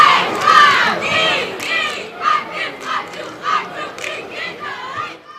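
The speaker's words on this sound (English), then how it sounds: "Well, you can hear the cheerleaders" High school cheerleaders chanting and yelling in rhythmic bursts at a Marshall vs. Eisenhower football game, heard from the stands, with a loud opening shout followed by a series of shorter, evenly spaced chant calls.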